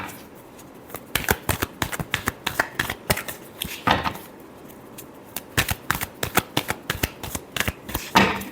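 Tarot cards shuffled by hand in a quick series of crisp riffling bursts and soft slaps, close and clear with brief pauses between, and no talking.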